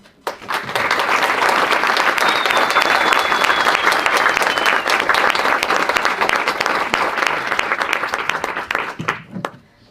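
A crowd at the end of a public meeting applauds, building within a second into dense, even clapping that holds for about eight seconds before it stops abruptly.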